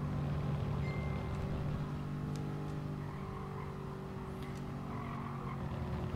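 Racing car in the Gran Turismo video game, a steady engine drone with faint tyre squeal layered on top, held at moderate level throughout without speech.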